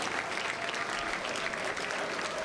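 A gathered crowd at Starbase applauds steadily before a SpaceX Starship launch, dense continuous clapping at moderate volume, with faint voices mixed in.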